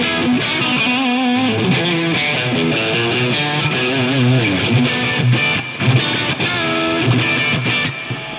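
A Gibson Les Paul Studio played on its bridge pickup with heavy distortion, loud continuous riffing and chords with brief chopped stops, buzzy and saturated up close.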